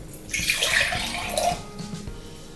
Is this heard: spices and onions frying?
no